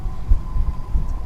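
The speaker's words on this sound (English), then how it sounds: "my floppy hat flapping." Wind buffets a floppy hat brim outdoors at an airport runway, producing a low, irregular puttering flutter close to the microphone, steady throughout with no speech.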